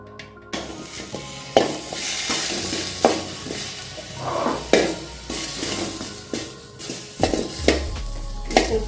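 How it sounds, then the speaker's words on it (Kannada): Tomatoes fry in a pan for a dhaba-style chicken sukka while a spoon stirs them, giving a steady close sizzle broken by repeated scraping strokes and clinks against the pan. "ಇವಾಗ ಟೊಮೆಟೊ ಫ್ರೈ ಮಾಡ್ಕೊಳ್ತೀನಿ"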